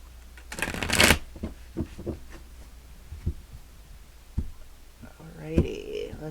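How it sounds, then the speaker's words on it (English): Tarot cards shuffled and pulled by hand, a dense burst of riffling flutter near the start followed by scattered soft card taps and slides, with a voice talking toward the end. "let's pull some cards for you, Gemini, and see what is going on"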